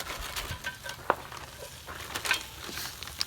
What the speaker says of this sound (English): let's throw those hash browns in there